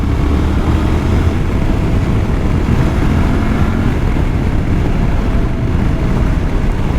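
Suzuki V-Strom 800DE parallel-twin engine under way on a ride, a steady broadband drone with heavy low rumble and wind rush, constant and loud throughout with no talk.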